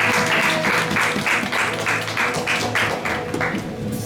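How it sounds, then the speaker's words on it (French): A church congregation at an Easter service applauds steadily, loud rhythmic clapping with cheering mixed in, continuous throughout. "Est-ce qu'on peut acclamer les Seigneurs?"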